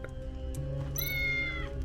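A cat meows in the video game Tales of the Neon Sea, one drawn-out clear meow over steady game music, close and distinct, with no one speaking.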